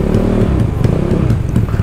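Close, loud engine drone of a Yamaha Mio scooter being ridden, a steady buzzing rumble with slight pulsing as the throttle varies, with no talk over it.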